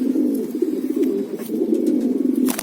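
Long-distance racing pigeons in a loft coo continuously, close and fairly loud, a dense rolling burble with no pauses and no voices.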